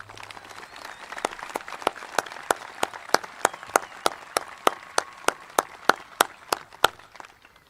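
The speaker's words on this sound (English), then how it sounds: "let's make sure we give them a round of applause right now" Audience applause fills a high school graduation ceremony, a steady patter of many hands clapping for several seconds at moderate distance with no talk over it.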